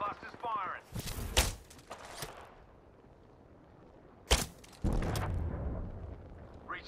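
Fuse's knuckle cluster launcher firing in Apex Legends: two sharp, loud explosive bursts a few seconds apart, each followed by crackling rumble, with an in-game voice line around them.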